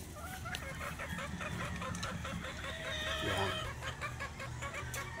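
Chickens and pullets at a gamefowl farm, including white Kelso cross birds, cluck and chatter steadily. A rooster crows partway through, and several birds can be heard near and far.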